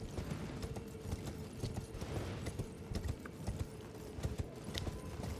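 Horse hooves clip-clopping at a steady gallop in the video game Elden Ring, a fast rhythmic drumming under a dense, noisy game soundscape, fairly faint overall.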